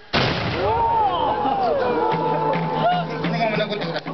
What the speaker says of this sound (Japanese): 今発射いたしましたのは抱えの大津という大型の火縄銃です。